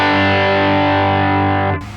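An electric guitar runs through a Helix amp modeler with the EQ cut set at 6.5. A loud, sustained distorted chord rings for almost two seconds, then cuts off into quieter residual noise.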